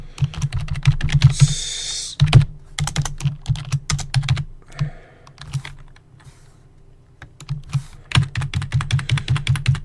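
Fingers type quickly on a computer keyboard, with crisp close keystrokes in steady bursts and a brief lull in the middle before the typing picks up again.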